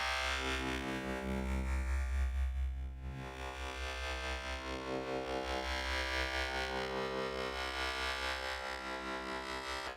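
A bright, buzzy synthesizer tone plays on its own, the high band of a Reason 6.5 Subtractor patch soloed, heavily processed with distortion and a swirling effect, thin on low end and sustained throughout.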